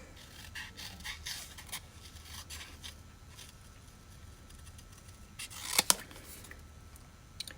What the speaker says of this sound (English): Now, I need my little paper snips. So I'm going to fussy cut this.